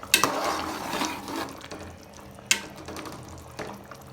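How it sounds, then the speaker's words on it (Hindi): A potato and chickpea curry with mashed potato and chickpeas is stirred in a pan, giving soft scraping and thick bubbling with a couple of sharp clinks of the spoon against the metal. "इसमें अच्छी तरह मिक्स कर देंगे।"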